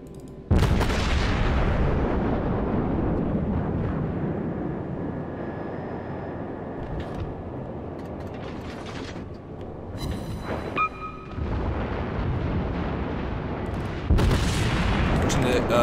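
The German battleship Tirpitz fires its guns in World of Warships with a heavy, booming salvo that rolls on as a long, loud rumble, followed by another deep blast near the end.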